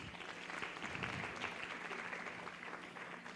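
Audience applause at a Kenyan brand awards launch event, a steady wash of many hands clapping throughout, fairly distant and even in level.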